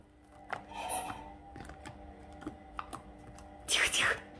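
Homemade New Year slime squeezed by hand, giving sparse sharp little clicks and pops at irregular intervals, close and quiet, with a brief louder squelchy burst near the end and soft talk around it.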